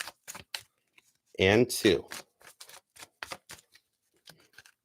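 A tarot card deck is shuffled in two quick riffled bursts, close and crisp, between brief bits of speech.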